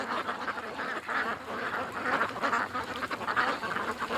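A small duck out in freezing -4°C wind quacks repeatedly in quick, loud, nasal bursts close by, the calls overlapping in an uneven rhythm against gusting wind noise.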